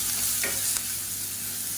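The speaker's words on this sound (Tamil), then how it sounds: "இப்போ இதில் நம்ம பொடி பண்ணி வச்சுருக்க இந்த ரசப்பொடியை சேர்த்துக்கலாம். சேர்த்துட்டு லேசாக வதக்கி விட்டுக்கலாம்." Homemade rasam powder sautéing in hot oil with fenugreek and red chilies, a steady close hiss of frying with a couple of quick stirring scrapes, no talk.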